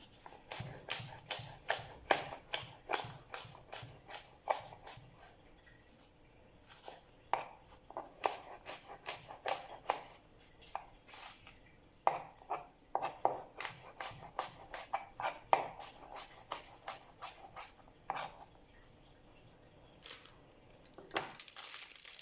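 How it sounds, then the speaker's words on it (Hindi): An apple is chopped into pieces on a board, with a long run of crisp, regular knife thuds in quick rhythmic bursts, close and clear with short pauses. "ये हम इसके एप्पल के पीस पीस कर लेंगे।"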